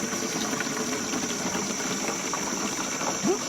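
Water flows fast in a steady, close rush with a constant broadband hiss, briefly marked by a faint higher sound at the end.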